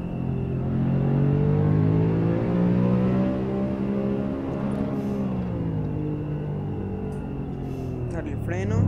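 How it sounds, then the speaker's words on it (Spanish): A Nissan Skyline's engine roars and revs steadily on a road, its deep rising and falling tone filling the clip while a voice talks over it. "Uy, pero este Nissan. Y lo que más me gusta es que ruge."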